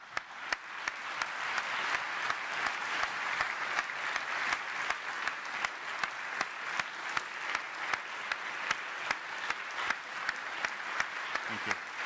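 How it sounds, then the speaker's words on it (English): Sustained applause from an audience after a talk by Dr. Richard Socher on AI accelerating scientific discovery: dense, steady clapping that fills the hall at moderate volume without a break. "But a big applause again to Richard."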